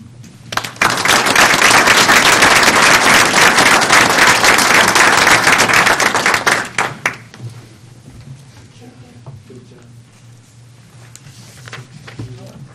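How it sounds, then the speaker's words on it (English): An audience at a county legislative meeting gives a loud round of applause for DMV staff for about six seconds, then it fades into quiet room noise with faint shuffling. "I just want to give a big round of applause to these two and all of my DMV staff"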